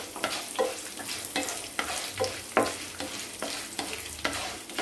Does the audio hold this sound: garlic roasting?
yes